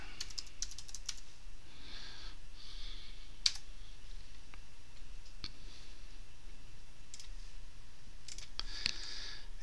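Fingers type on a computer keyboard while a folder name is entered in VirtualBox settings, giving bursts of quick, light clicks with short pauses between them, close and fairly quiet, with no talking.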